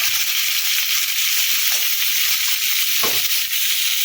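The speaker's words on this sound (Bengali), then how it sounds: "মিনিটখানের সময় ধরে ভালো করে ভেজে নিয়েছি" Eggplant fries in hot oil with a continuous bright sizzle and hiss, broken by a couple of brief stirring scrapes in the pan.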